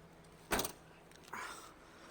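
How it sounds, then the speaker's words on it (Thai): The power sliding door of a 2011 Honda Freed 1.5 SE unlatches with a quiet clunk, then a soft motor whir begins as the door starts to open, faint and close by. "นี่นะครับเป็นประตูเปิดไฟฟ้า"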